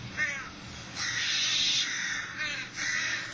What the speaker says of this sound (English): the one with the crow squawking sound